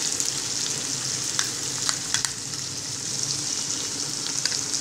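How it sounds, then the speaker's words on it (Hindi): Stuffed bitter gourd with leftover masala fries in a pan, giving a steady, dense sizzle with small crackles throughout. No one speaks. "अब इसको मैं फिर भूनने देती हूँ, फिर ढक देती हूँ दो मिनट के लिए।"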